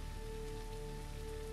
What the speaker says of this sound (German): Natürlich fängt es jetzt wieder an zu regnen.